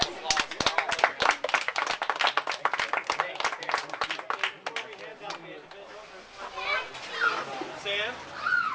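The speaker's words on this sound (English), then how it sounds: "give your parents a hand round of applause for all of them" Youth baseball team and crowd give the players' parents a round of applause at a trophy gathering, with dense clapping for about five seconds that fades into children's chatter and voices.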